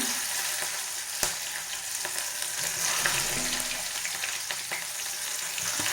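Chopped ginger, green chili and kasuri methi frying and sizzling in a kadai while being stirred, a steady close hiss with occasional sharp crackles and spatter pops, no voices.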